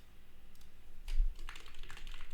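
Typing on a computer keyboard, a short burst of quick, light key clicks close by with no talking.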